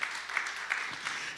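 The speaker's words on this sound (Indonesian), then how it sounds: "Yang mau tepuk tangan yang meriah bagi Tuhan Yesus" A church congregation at BMC New York breaks into brief, dense applause, a quick burst of many hands clapping together, fairly close and steady.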